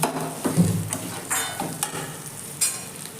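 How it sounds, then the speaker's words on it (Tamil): Vegetables for egg fried rice are sautéed in a pan, with several distinct scraping stir strokes over a low sizzle, close and fairly loud. "இதையும் கொஞ்சம் ஒரு வதக்கிக்கோங்க. நல்லா வதக்கிக்கோங்க."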